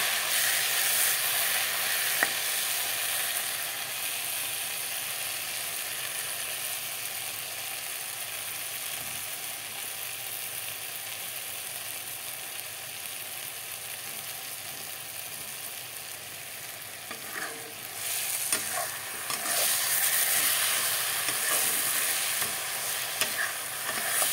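Dried fish chutney fries and is stirred in a pan, a continuous sizzle with scraping strokes that runs steadily for over twenty seconds and swells near the end.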